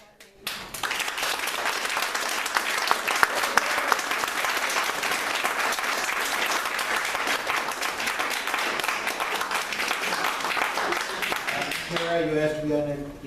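A town meeting audience breaks into loud, sustained applause and clapping that fills the room for about twelve seconds, then fades as a voice begins speaking.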